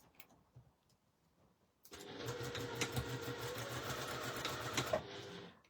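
A sewing machine stitching a placket zip, running steadily for about three seconds after a quiet start, close and fairly loud, then stopping abruptly.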